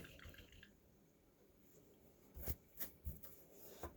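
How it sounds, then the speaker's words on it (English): A paintbrush rinsed in a container of water, quiet sloshing and a few soft splashes and clinks in a short irregular burst near the end, close and faint. "And we're going to wash our brush again."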